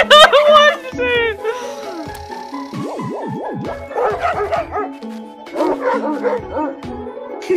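Distorted, warbling dog barks and yips from the video game Bokura, loud and repeated in uneven bursts with electronic tones, alongside game music.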